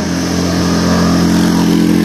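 A motorcycle engine runs steadily at a constant idle, a loud, close, droning hum with no pauses and no voices.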